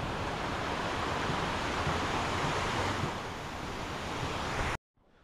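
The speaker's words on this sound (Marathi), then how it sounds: "पाणी बघा, पाणी कसं वाहतोय बघा." Rushing water flows steadily and loudly close by, a continuous broadband wash that cuts off abruptly near the end, leaving near silence.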